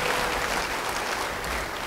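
Brief burst of applause from a congregation at a religious sermon, a dense wash of clapping that fills the short moment at moderate loudness.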